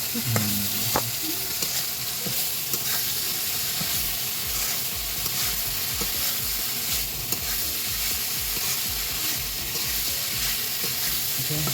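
Capsicum and broccoli stir-fry in a hot pan for vegetable noodles, a loud, continuous sizzle and hiss with the scrape of constant stirring, close up and uninterrupted.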